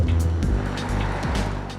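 Red Mazda RX-8 on a major road sweeping past, a steady engine and tyre roar close by that fades slightly as it goes.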